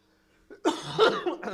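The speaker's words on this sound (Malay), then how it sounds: "Sorry, terbatuk pula." A single harsh cough after a moment of near silence, close and fairly loud, with a short follow-up burst.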